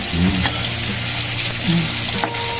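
Banana-stem vegetable tikki patties sizzle steadily in hot oil just after being flipped, a dense continuous frying hiss with faint bubbling, loud and close with no talking.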